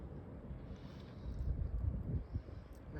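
Strong blizzard wind gusts roar in low, rumbling buffets, swelling midway and surging unevenly through the rest, with no speech.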